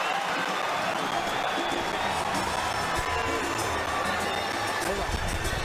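A partisan boxing arena crowd at a Canelo Alvarez versus Caleb Plant fight roars continuously, a dense wash of cheering and applause with no break, steady and fairly loud throughout.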